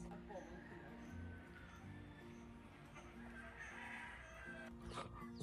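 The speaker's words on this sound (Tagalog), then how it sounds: "May mga manok." Chickens cluck and a rooster crows at a Philippine house with duplex-style buildings, the birds mixing with steady background noise while people talk in Tagalog over them.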